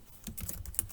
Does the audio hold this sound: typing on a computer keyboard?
yes